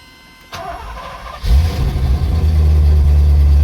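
A 1981 Porsche 928 engine cranks briefly, catches with a loud roar, then settles into a steady, deep idle near 1,000 RPM close by.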